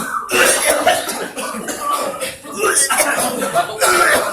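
A person coughs repeatedly during a ruqyah healing session, with loud, rough bursts recurring close to the microphone through the whole stretch.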